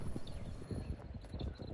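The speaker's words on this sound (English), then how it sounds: "there's horses out here" Horses walking through a campsite, their hooves clip-clopping in an uneven rhythm at close range, with no talk over them.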